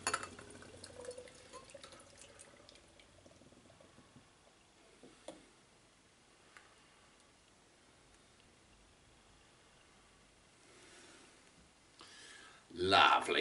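Innis & Gunn Session IPA, a 4.6% beer, is poured from a can into a glass: a soft, trickling, fizzing pour that runs quietly before a louder gush of liquid near the end.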